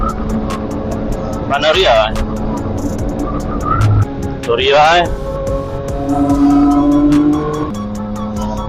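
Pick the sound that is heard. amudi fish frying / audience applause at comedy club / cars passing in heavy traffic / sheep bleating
cars passing in heavy traffic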